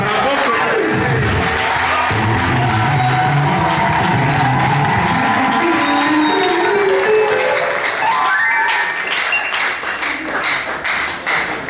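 A church congregation in Brazzaville acclaims with sustained shouting and cheering, loud and reverberant, with rising voices swelling and then tapering off toward the end.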